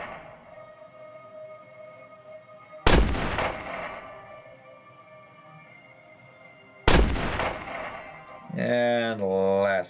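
Two sharp, loud gunfire blasts from turrets in the Block Fortress video game, a few seconds apart, each decaying over a sustained background drone, followed by a warbling electronic tone near the end.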